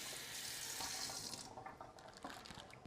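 Water runs steadily from a kitchen tap while a block of hardened clarified butter is rinsed under it, a soft close splashing that eases slightly after a moment, with no voices.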